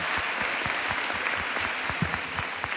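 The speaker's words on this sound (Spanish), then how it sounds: "un aplauso para los compañeros" Audience applause at a round-table panel on computational thinking in education, a steady bed of clapping with distinct individual claps standing out, moderately loud and continuous throughout the short stretch.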